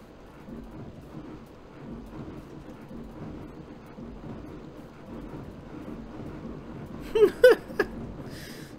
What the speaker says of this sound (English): It calls lightning, that's what it does.